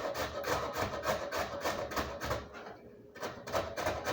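Carrots are grated by hand in a home kitchen, giving a steady rhythmic rasping with repeated strokes through the clip, close and fairly loud, and one short pause near the end.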